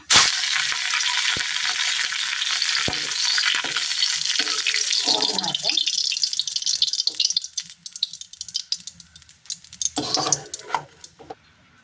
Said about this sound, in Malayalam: ഇതിലേക്ക് കറിവേപ്പില ഇട്ട് കൊടുക്കാം